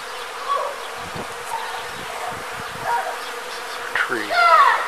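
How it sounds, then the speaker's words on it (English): Dense, steady buzzing of many bees swarming in a flowering tree, close and loud, with a few louder passes near the end. "There is an infestation of bees."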